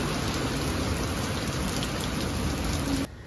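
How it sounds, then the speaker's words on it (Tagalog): Heavy tropical rain pours steadily at a seaside beach resort in Bauang, La Union, a dense, loud, continuous hiss of drops on surfaces that suddenly drops to a quieter drizzle near the end. "tumigil din ang napakalakas na buhos ng ulan"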